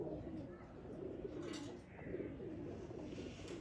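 Pigeons, a mix of flown males and females kept for sale, coo in low, steady murmurs that run continuously across the moment, fairly close, with a few faint higher chirps above.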